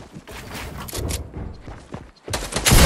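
Gunfire in Fortnite, rapid bursts of shots crackling close by, with pauses between volleys and a heavier loud burst at the end.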